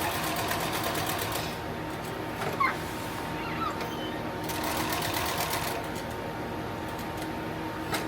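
Sewing machine stitching a tactical plate carrier, running steadily with rapid rattling needle strokes for the whole stretch, broken by a couple of brief pauses and small clicks.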